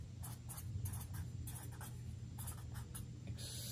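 Marker or chalk writing on a board during a physics exam review lesson, a steady run of short scratchy strokes in rhythmic bursts close by, over a constant low hum.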